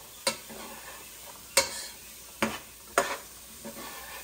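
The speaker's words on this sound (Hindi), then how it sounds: "इधर अपने सब्जियां पा दतिया हैं भुनने के लिए" Vegetables roasting in a pan for vegetable soup, with a low sizzle broken by a few sharp scraping clacks of a spatula stirring them at uneven intervals.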